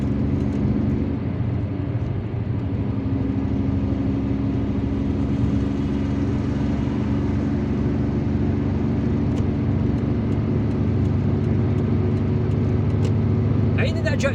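A car overtakes another vehicle on an Algerian road between Boudouaou and Ain Benian. A steady, loud engine and road rumble runs throughout, with a passing-vehicle whoosh and someone talking over it.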